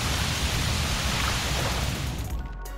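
Water sprays in a steady, loud broadband rush from a toy fire truck's hose, continuous for nearly three seconds before easing slightly at the end.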